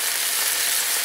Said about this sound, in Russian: Наши грибочки жарятся.